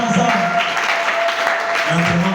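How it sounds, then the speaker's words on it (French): A church congregation cheering and applauding for the Lord, with dense continuous clapping and voices mixed in throughout. "Est-ce qu'on peut acclamer pour le Seigneur?"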